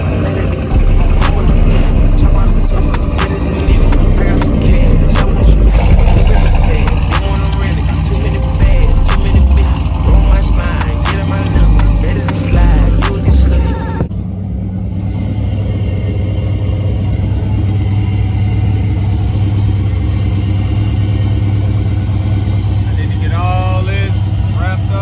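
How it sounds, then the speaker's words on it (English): A car fitted with a new stainless exhaust system starts up, its loud, steady idle rumble droning on continuously after an earlier stretch of rattling and handling noise, with some talk near the start. "this is about to be the first time I start the car up, so y'all about to hear it too."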